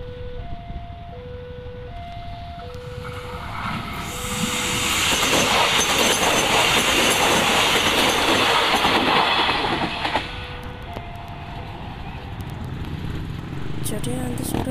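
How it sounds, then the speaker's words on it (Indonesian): A KRL KFW i9000 electric commuter train makes a trial run on the Yogyakarta–Solo line near Klaten station. Repeated two-note chimes come first, then a rising rush and rumble as the train passes for several seconds before fading. "KRL-nya sebentar lagi akan melintas untuk kembali ke stasiun Klaten"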